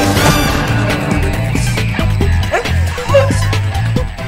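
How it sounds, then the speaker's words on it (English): A dog in the Madagascar 2 video game barks and yips in a quick, loud, close series of short woofs with some whimpering tones mixed in. "Find a way to distract that mangy mongrel."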